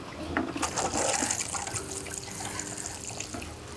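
Water poured onto lemon balm planted in a container, a splashing, trickling pour that is strongest early and then settles into a softer steady run, heard up close with no talking.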